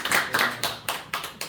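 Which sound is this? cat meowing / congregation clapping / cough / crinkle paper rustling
congregation clapping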